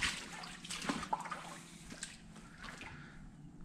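Water trickling and sloshing through a dark creek tunnel, a steady close wash of flowing water with faint drips echoing in the enclosed space, no talk.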